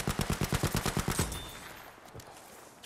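Rapid automatic fire from an MP40 or STEN submachine gun in Battlefield 5, a tight burst of about a dozen shots lasting just over a second, followed by quieter game ambience and a faint later shot.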